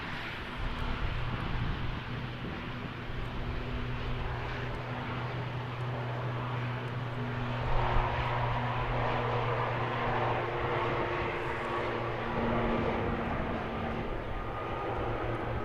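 An ATR turboprop airliner at Christchurch Airport gives off a sustained, fairly distant drone with a steady humming tone that swells slightly partway through, heard alone without voices.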